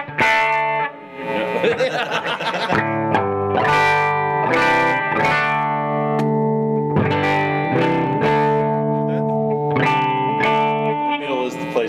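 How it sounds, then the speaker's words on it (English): Electric guitar played through its French pickup rings out in sustained chords and single notes with effects-unit shimmer and distortion, loud and close, with a brief spoken word near the start. "The French pickup's great."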